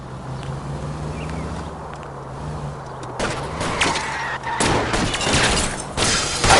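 Gunfire erupts during a car chase in L.A. Noire, with a steady engine drone giving way after three seconds to loud, dense bursts of shots crackling over road noise.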